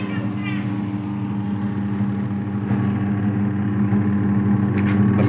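An ABDULLAH AE390 3.5 kg dough maker kneads dough with a steady, fairly loud motor drone that holds evenly from start to finish, its low hum growing slightly stronger toward the end.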